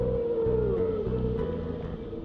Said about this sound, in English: Is that a humpback whale?